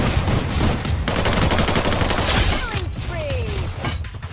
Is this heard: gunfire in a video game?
yes